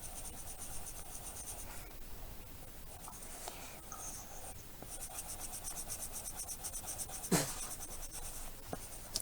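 Colored pencil scratching steadily across paper while drawing a flower, with soft continuous rubbing strokes and a few sharper scrapes, close and quiet with no talk.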